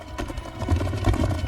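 Horses gallop across open plains, a loud, dense drumming of hooves under a documentary soundtrack, with a brief whinny mixed in.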